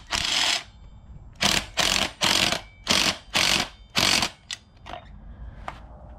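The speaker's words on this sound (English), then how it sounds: "I'm just gonna have to fasten everything up, tighten it all down, and should be good to go." Ratchet tightening the rail bolts on a Polaris snowmobile: six bursts of rapid clicking in a fairly even rhythm, close and loud, then a few lighter ticks and clanks.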